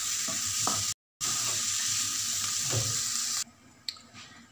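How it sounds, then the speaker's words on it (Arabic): A meat and onion stew sizzles and is stirred in a tagine, a continuous frying hiss with soft scraping clinks, briefly cut to silence, then quieter with a sharp clink near the end. "ونحرك هكذا باش تجانس العناصر كامله ونغلق عليها مره اخرى"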